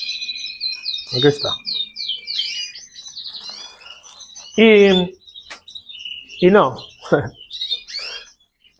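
Captive-bred birds chirp and tweet in quick high bursts near by, while people talk intermittently over the calls.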